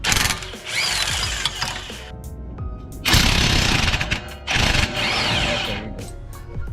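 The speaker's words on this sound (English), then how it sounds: "Now we're using an 18mm to remove the strut bolts." A ratchet clicks in loud, close bursts while loosening 18mm strut bolts on a 2005-2009 Mustang GT, with three separate stretches of rapid clicking and short pauses between them.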